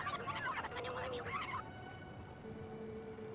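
A flock of birds clucks and honks in The Legend of Zelda: Twilight Princess HD, a dense, chattering cluster that stops abruptly partway through, leaving a faint, quiet tone.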